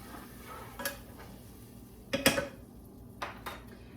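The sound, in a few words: stirring sauce in a pan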